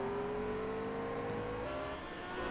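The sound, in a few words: race car engines powering out of hairpin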